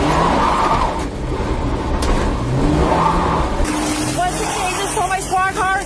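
A stolen police squad car drives off, its engine revving and accelerating beneath shouting and radio chatter, with wind and road noise rising, while people talk over it.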